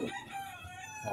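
A young gamefowl stag from an imported line crows once, faint and brief, with a thin, drawn-out call.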